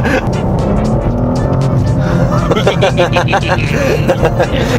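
A car accelerating away on a road, its engine noise loud and continuous with a rising tone, while voices talk excitedly over it.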